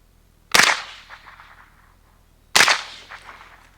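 Two sharp supersonic rifle shots through a JMac Customs Banka suppressor, about two seconds apart, each a loud close crack with a short decaying tail in open surroundings.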